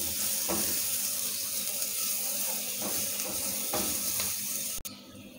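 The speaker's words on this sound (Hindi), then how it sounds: "अब मैं यहाँ पे डाल रही हूँ 2 खाने के चम्मच बारीक कटी हुई प्याज" Finely chopped onion and green chili sizzling in hot oil in a frying pan, a steady close crackling hiss that holds throughout, broken near the end by a sharp clink, with no talking.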